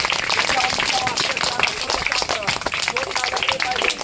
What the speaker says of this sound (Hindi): ताली बजाओ, उठाओ और ताली मारो जोर से।